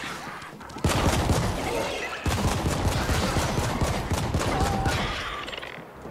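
Gunfire in The Ascent bursts out in dense rapid volleys, loud and close, with a short lull before a second sustained barrage that fades toward the end.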